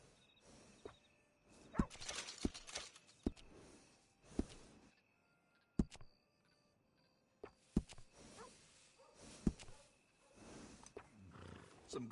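Horse snorting and whinnying during grooming in the Red Dead Redemption video game, short loud bursts and sharp knocks at irregular intervals, interleaved with speech.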